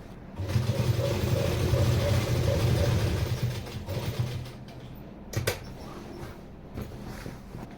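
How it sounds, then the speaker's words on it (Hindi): A sewing machine stitches a pocket onto a handmade handbag. Its motor whirs steadily and close for about three seconds, then stops, leaving a few faint clicks and knocks. "इसमें चारों साइड से सिलाई लगा लेंगे।"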